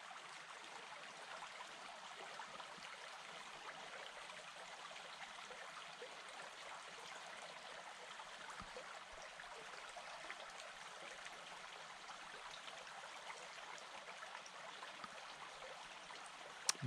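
Water flowing steadily in Bull Creek, a small stream near Riceville, a soft continuous trickle and rush heard alone, faint and even throughout.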